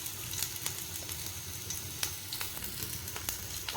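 Cumin, green chili and curry leaves sizzle and crackle in hot oil in a pan, with a continuous faint hiss broken by sharp scattered pops, heard alone with no talk.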